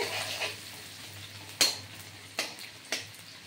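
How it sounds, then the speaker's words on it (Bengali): Chopped onion with cumin fries gently over low heat in a pan, a soft steady sizzle broken by a few sharp metallic scrapes and stirring clatters of a utensil. "ছোট আঁচে ধীরে ধীরে পেঁয়াজটা ভাজা হবে"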